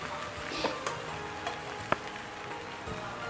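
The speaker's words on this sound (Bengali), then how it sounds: "এটা মাটন কষাই হচ্ছে" Mutton being sautéed (kosha) in a pan gives a steady, close sizzle with a few sharp scrapes and taps from stirring, and no voices over it.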